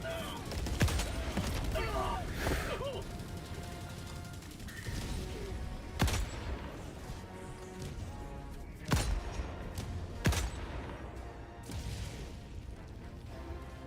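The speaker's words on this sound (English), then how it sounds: "This is an anti-materiel rifle." Helldivers 2 anti-materiel rifle and battle noise: a few sharp, loud cracks spaced seconds apart over a busy din of mechanical clatter and distant explosions, with a voice talking at times.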